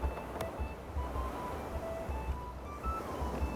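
Gentle ocean waves lapping around a small sailors' boat in the video game Before We Leave, a faint, steady wash of surf with soft wind, no voices.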